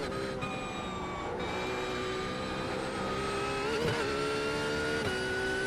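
A GT3 race car engine in the iRacing sim holds a loud, steady drone, rising slightly in pitch with a couple of brief revs and shift dips partway through, heard alone without talk.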